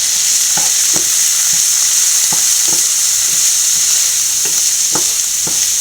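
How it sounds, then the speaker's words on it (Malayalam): Broccoli egg thoran is stirred in a pan over a loud, continuous sizzle, as a spatula scrapes and knocks against the metal in an irregular rhythm close by, with no speech. "നമുക്കിനി മൂടിയെ മാറ്റി നന്നായിട്ട് ഇളക്കി കൊടുക്കാം"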